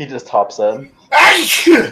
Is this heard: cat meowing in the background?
no